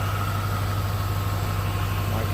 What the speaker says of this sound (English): V8 supercharged engine.